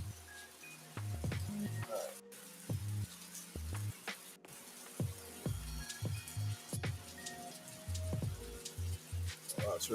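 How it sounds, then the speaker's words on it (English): Heavy storm rain falls outside, a constant hiss of downpour heard from indoors with scattered soft thumps and taps throughout. "Well, it's really raining out."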